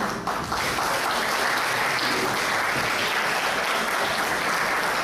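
An audience at a humanities department event applauds a guest, Jorge Morales, with broad, even clapping held at steady strength throughout.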